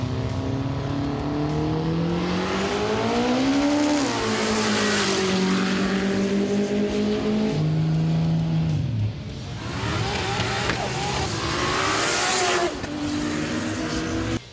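A Nissan R32 GT-R roll racing at Sydney Motorsport Park, its engine holding a loud, sustained high-rev drone that climbs through gears with brief dips at shifts, close and continuous without a break.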